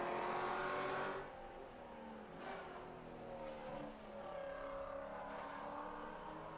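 A Maserati Trofeo race car at the Red Bull Ring, its engine note rising and falling as it slows into the pit lane, moderately distant and unaccompanied by talk.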